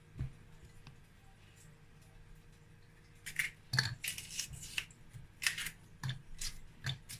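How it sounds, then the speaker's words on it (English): An ingredient for okra soup is cut into pieces with sharp, close snipping and clicking sounds, a quick irregular series of cuts in the second half of the clip after a quiet start. "So I'm gonna cut it into pieces."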